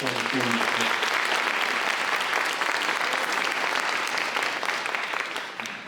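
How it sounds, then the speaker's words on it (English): An audience gives a judge of the Division I Court of Appeals, State of Washington, a dense, sustained round of applause with a brief voice at the start, fading slightly at the end. "Please give a round of applause"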